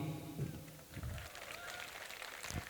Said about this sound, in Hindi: ये तालियां राजेंद्र के लिए